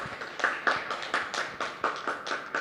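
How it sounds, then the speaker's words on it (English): A short burst of clapping with distinct, fairly sparse hand claps in an irregular rhythm, like a small audience applauding briefly at a university campus event. "Can we please give them a big round of applause?"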